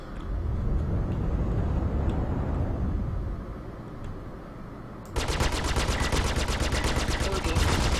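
Rapid cannon fire in a video game, a dense rattling barrage that pauses briefly and then resumes harder, loud and continuous under game noise.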